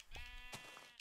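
A gray sheep in a block-building survival video game lets out a single short, wavering bleat, quiet and heard alone.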